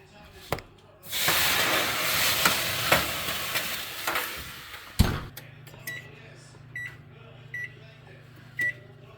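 Inside an oven baking homemade bread, a loud burst of steam hisses for about four seconds, then cuts off with a clunk, leaving a low hum and a few faint beeps.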